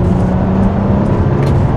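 Hard acceleration from an Audi Q7 e-tron hybrid SUV with 373 horsepower, heard from inside as a loud, steady low engine and road drone with no talk.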